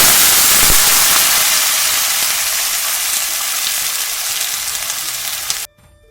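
Oil heating in a kadai, a loud, dense, steady sizzle and crackle up close, running for several seconds before cutting off abruptly.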